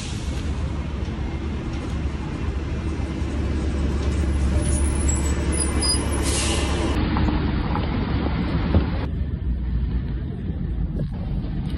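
An employee shuttle bus at an airport gives a loud, steady low engine rumble and road noise from inside the cabin, with a faint hiss and no clear talk.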